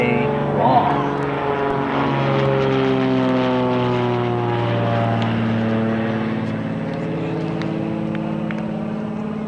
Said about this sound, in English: Just be prepared for the planes flying overhead from a nearby airport all day long.